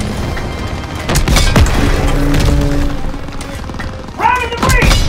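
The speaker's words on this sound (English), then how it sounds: "Enemy tank destroyed!" Call of Duty WWII German Panzer tank being blown up amid heavy gunfire, a loud close blast and crashing debris over continuous battle noise, with soldiers shouting orders.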